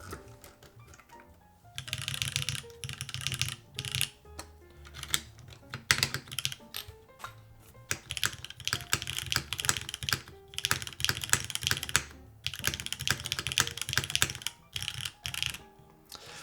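Rapid clacky typing on a full-size Touchstone mechanical keyboard with higher-pitched alphas, bursts of keystrokes with brief pauses and occasional deeper spacebar thocks, close and clear.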